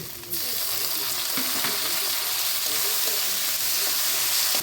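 Chopped tomatoes hit frying onions in a hot pan, setting off a sudden burst of loud, close sizzling that keeps going steadily to the end with no voices.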